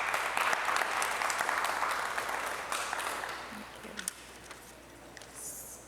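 Audience applause welcoming a speaker at a conversation event, steady clapping from a crowd that swells early and then gradually fades, moderately loud and continuous, with faint voices near the end.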